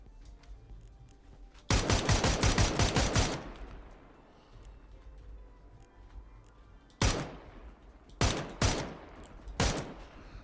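Bursts of rapid automatic gunfire in PUBG: one long volley, then several shorter sharp bursts after a pause, loud and crisp like game weapon effects.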